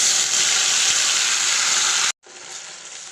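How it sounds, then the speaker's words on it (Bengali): Cumin seeds sizzle in hot oil, a loud, steady hiss that cuts out briefly and then carries on a little quieter. "জিরে ফোড়ন দিয়ে দিচ্ছি"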